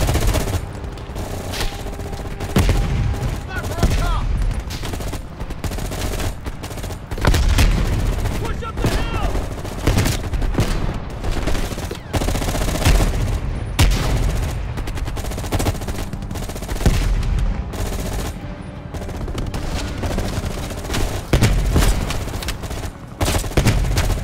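Gunfire in the video game Call of Duty Black Ops Cold War: loud, continuous automatic bursts and repeated shots with booming impacts throughout, occasionally under brief talk.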